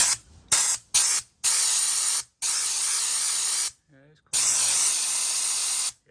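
Warm wax oil sprays through a nozzle into the chassis legs and rails of a TD5 Land Rover Defender. Loud, close hissing bursts of uneven length, several short and two long, are separated by brief gaps, with a faint voice in one gap.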